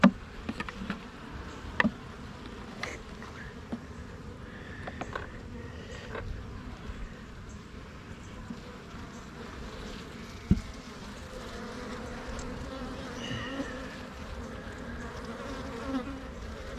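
Honeybees hum and drone softly at close range at a hive, a continuous low buzz with occasional faint taps and knocks, no talking.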